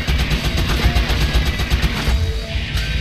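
Assault rifle fire in the top-down shooter game Crimsonland comes as a rapid, continuous stream of loud, evenly spaced shots lasting about three seconds, with no talking over it.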